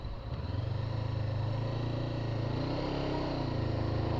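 Honda CBR500RA motorcycle engine revving high on an open road, a steady droning buzz with pitch rising and falling slightly, heard alone and fairly close.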